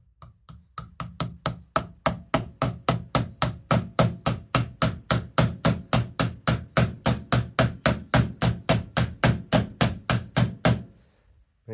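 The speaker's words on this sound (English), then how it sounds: "So I've just got like a nylon soft blow hammer." A nylon soft-blow hammer strikes a machinery part on construction equipment in a long, steady run of about thirty-five evenly spaced, loud, close blows that ends abruptly, with no talking.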